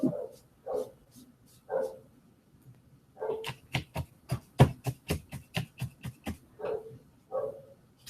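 A dog barks in a rapid run of sharp, loud barks in the middle stretch, with slower single barks before and after, going on steadily with no talking.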